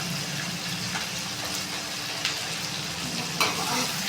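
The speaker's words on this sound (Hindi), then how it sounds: "अच्छी तरह इस तरह भून लेंगे" Tomatoes and green chillies frying in a pan, a steady close sizzle with light stirring scrapes and a couple of brief sharper pops, no voices.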